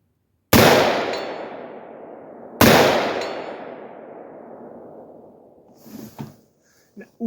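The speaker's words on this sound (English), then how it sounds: "we're gonna shoot this just with the muzzle brake at 150 yards" Two loud, close 5.56 rifle shots fired through a muzzle brake, each a sharp blast with a long ringing decay, spaced about two seconds apart, followed by faint clinks and handling noise.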